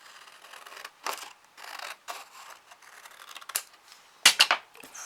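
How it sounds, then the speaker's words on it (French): Scissors snip off the end of a piece, giving a few separate close cuts followed by a quick cluster of sharper snips near the end. "Donc je vais couper le bout là qui va me servir à rien"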